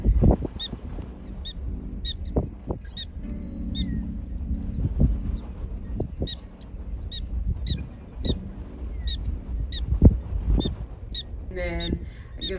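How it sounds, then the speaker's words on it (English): Prairie dogs in South Dakota give a run of short, high, bird-like chirps, repeated steadily at roughly half-second intervals, under steady background noise and some voices. "I didn't know prairie dogs sound like birds."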